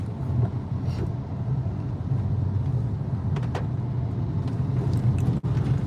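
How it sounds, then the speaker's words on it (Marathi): City road traffic in Ahmednagar, India: a steady low rumble of engines and passing vehicles fills the scene, with occasional faint horn-like tones and brief clatter, continuous and fairly close with no speech. "नगरची ट्रॅफिक खतरनाक आहे"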